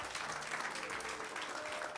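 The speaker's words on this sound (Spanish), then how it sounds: "Dele un fuerte aplauso a Dios en esta hora." A church congregation bursts into dense, loud applause during a sermon, a continuous wash of clapping from many hands with a faint voice underneath.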